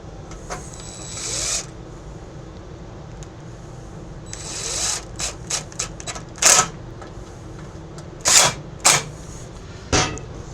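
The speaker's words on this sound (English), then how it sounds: "Let's get these screws started." Screws being started by hand while reassembling a Murray PRO snowblower: short raspy ratcheting and scraping bursts, some spaced apart and a few in quick runs, heard close with no talk.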